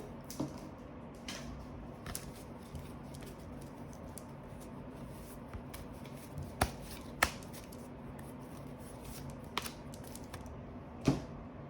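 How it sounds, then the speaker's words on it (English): Soft riffling and tapping of tarot cards being shuffled, quiet and close, with a few sharper clicks scattered throughout. "I shuffle my cards before every reading"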